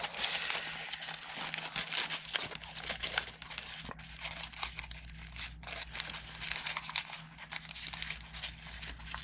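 Origami paper crinkles and rustles steadily as it is folded and pleated, a soft, close, continuous crackling with no talk.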